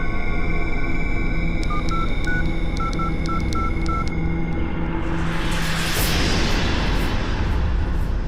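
A telephone number is dialed as a string of short, evenly paced touch-tone beeps, then a rising rush of sound takes over, all under a steady low hum with no talking.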